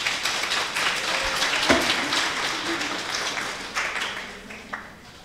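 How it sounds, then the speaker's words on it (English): An audience applauds students after a high school mock trial of John Brown, a dense, fairly loud wash of clapping that builds and then gradually thins out. "Let's give them a round of applause."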